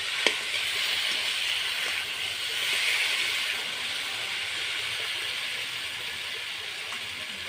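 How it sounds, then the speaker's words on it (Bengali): Potatoes fry in hot oil in a pan over a wood fire for a fish curry, giving a steady, soft hiss with a few faint crackles and pops, near and quiet, with no voices. "আলুটা ভাজা হচ্ছে এখন"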